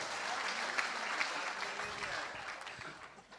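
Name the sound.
audience applause at a Hindi poetry gathering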